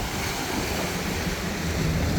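Strong waves at a river cut off the coast while out fishing: continuous loud rushing surf and water wash with wind noise on the microphone, no voices.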